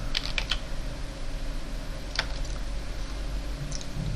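Keys tapped on a computer keyboard while entering a software install command, a few quick clicks near the start, another short burst around the middle and one near the end, over steady low hum.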